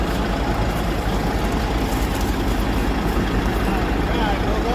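Farm vehicle driving through a corn field during corn chopping, a steady loud low engine rumble throughout with no pauses.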